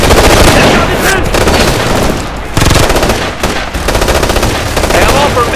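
Assault rifle fire in the shooter game Ghost Recon: Future Soldier, with loud sustained automatic bursts and overlapping gunshots filling the whole stretch, plus brief shouted voices mixed in.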